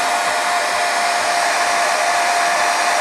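Heat gun blowing hot air onto a Spektrum AR500 radio receiver in a heat test, a loud, steady, close roar of rushing air with a constant whine throughout and no talk.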